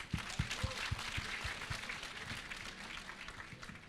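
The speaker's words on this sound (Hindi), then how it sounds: "अपने लिए तालियां बजाइए" Audience applause at a spoken word and open mic gathering, a dense wash of clapping spread across the room, steady and fairly quiet throughout with a few sharper claps standing out near the front.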